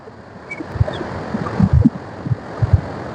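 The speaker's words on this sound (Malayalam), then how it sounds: "അടുത്തേക്ക് വരുമ്പോ ഭയങ്കര കാറ്റാണ് കേട്ടോ" Strong wind gusting at the Neyyar dam waterside, a rumbling low buffeting against the microphone in irregular bursts, no voices.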